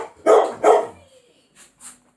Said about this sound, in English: One of my dogs is barking.